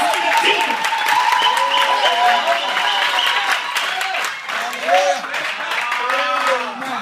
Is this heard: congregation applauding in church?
yes